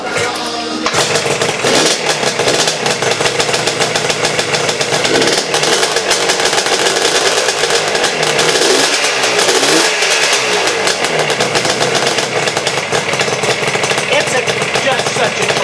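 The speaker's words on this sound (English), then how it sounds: "a peaky, just fun little motorcycle" A small, peaky motorcycle engine runs in a shop, loud and close, with steady rough engine noise and brief revs throughout.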